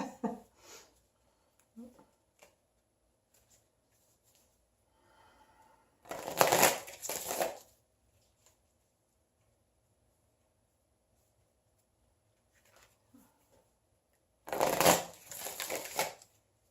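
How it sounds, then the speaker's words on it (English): Two bursts of tarot cards being riffle-shuffled, each lasting about a second and a half and separated by a long quiet stretch with a few faint handling taps. "I've shuffled the Osho Zen deck."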